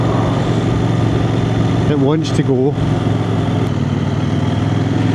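A CF Moto 800NK motorcycle engine pulls in third gear at around 30 mph, just under 3,000 rpm, with a steady, close, loud drone running throughout while a rider talks over it.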